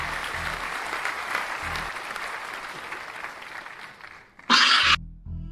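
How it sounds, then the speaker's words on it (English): Audience applause from a horror-game stream crowd, a steady dense wash of clapping holding for several seconds before a brief louder burst near the end. "Thank you, Sneaky, for the applause."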